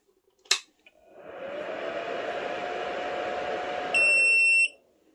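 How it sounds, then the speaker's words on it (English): A click, then a SkyRC T200 dual battery charger's fan spins up into a steady whir, followed by a short, sharp electronic beep over the fan before everything cuts off. "these chargers, the T100 and the T200, when you turn them on, is that beep"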